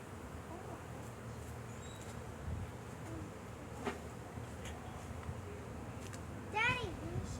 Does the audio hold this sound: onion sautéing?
no